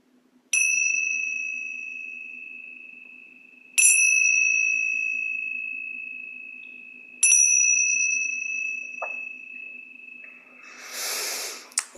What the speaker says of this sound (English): we're going to do some light chimes today